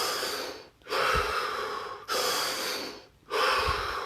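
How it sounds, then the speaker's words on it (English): Someone takes deep breaths close by, in slow, full inhale and exhale cycles. Each breath is broken by a brief silence. "Drop your hands and take 3 deep breaths."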